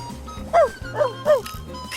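A little sick dog in the video game Lightning Returns: Final Fantasy XIII gives three short, high yips in quick succession, close and moderately loud over soft game background.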